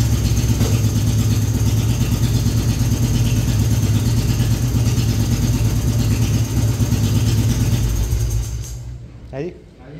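A 1992 Royal Enfield Bullet Standard 350 single-cylinder engine idling close by, a steady loud rhythmic thump that runs continuously before cutting off near the end, with brief voices as it dies away.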